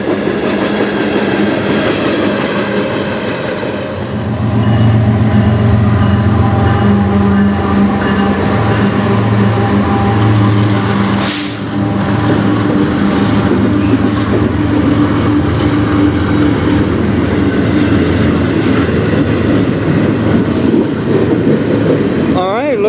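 Freight train passing close by, led by the Every Child Matters locomotive and pulling intermodal cars, in Sarnia, Ontario: a loud continuous rumble and rolling wheel noise with a steady clatter throughout and a brief sharp squeal midway.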